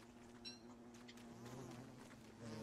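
Red bee from the Don't Starve game buzzing steadily as it attacks, a close insect drone with small wingbeat flutters running the whole time.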